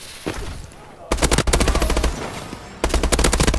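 Rapid automatic gunfire from Call of Duty: Advanced Warfare as an enemy is shot, in two dense, loud, close bursts separated by a short gap, with faint game ambience before the first burst.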